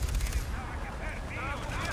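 Gunfire in the Far Cry 3 video game rattles densely through a short burst, mixed with someone talking over the shots.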